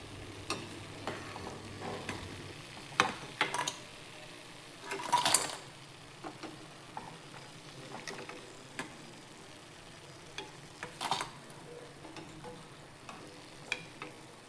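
Salty wheat flour shankarpali, a crispy Diwali snack, frying in hot oil with a soft continuous sizzle punctuated by scattered clicks and taps of a utensil, fairly quiet and without speech.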